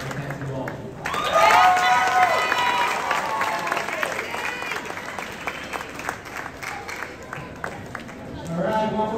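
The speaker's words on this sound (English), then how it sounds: "one more big round of applause for Mr. Hill" A crowd at an elementary school fifth-grade moving-up ceremony breaks into loud, sustained applause and cheering that gradually thins out; a voice speaks over the clapping toward the end.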